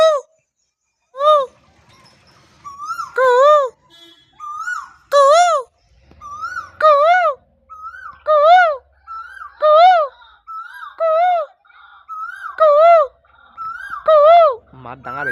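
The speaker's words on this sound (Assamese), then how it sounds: "আজি আমি কুলির মাত আপনারা শুনলাক না" An Asian koel calls repeatedly, close and loud, in a steady series of rising whistled notes spaced about a second apart, with a brief pause midway and a low rumble near the end.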